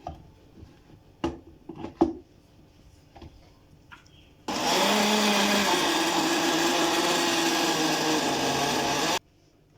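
A Moulinex blender grinds tomatoes for homemade ketchup, starting after a few light clinks and taps and running as a loud, steady whirring motor for about five seconds before cutting off abruptly.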